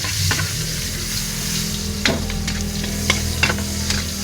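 Onion sizzles in a pan for ginataang tulingan while being stirred, a constant close frying hiss broken by a few sharp scraping clicks of the utensil.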